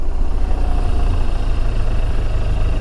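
A motorcycle engine idles with a steady low rumble, loud and close, on a quiet road near a bus stop, no other traffic and no voices.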